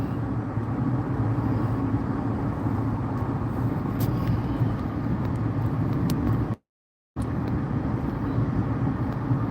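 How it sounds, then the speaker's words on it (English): Steady road rumble from inside a moving car, a constant low drone with faint tyre and engine noise, briefly cut to silence partway through, then resuming unchanged. "I ain't doing nothing but driving to the crib."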